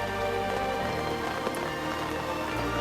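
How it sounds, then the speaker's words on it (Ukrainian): Rain falls outdoors during a fishing trip, a dense, steady patter of drops close by on surrounding surfaces, continuous and fairly loud with no talk over it. "Дивіться, який дощик пустився."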